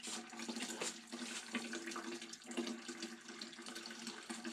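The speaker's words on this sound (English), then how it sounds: "Draining the last little bit takes a little time." Liquid draining out while hard cider is racked, a faint, continuous watery trickle and gurgle close by with no talk.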